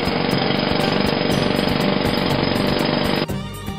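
A jackhammer is carving stairs into the cliff at Diamond Beach, Bali. The rapid pounding is loud and continuous, then cuts off abruptly just before the end, leaving quieter ambience.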